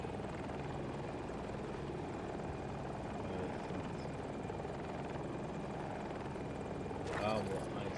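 A KA-520 Super Hokum helicopter in a video game gives a constant, close rotor thrum that runs throughout, with a brief sharp burst near the end and voices talking over it.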